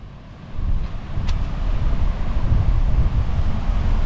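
A windy, overcast Normandy shoreline at high tide with waves breaking just across the road. Loud, steady wind roars over the microphone, and the surf is a continuous washing rumble with no speech.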